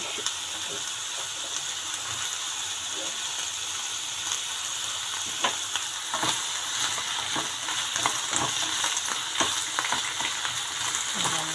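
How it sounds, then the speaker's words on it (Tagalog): Mixed vegetables sautéing in a hot pan, a steady loud sizzle and crackle with scattered stirring scrapes and clacks of a utensil throughout, close up and without talking. "gisa-gisa lang natin guys"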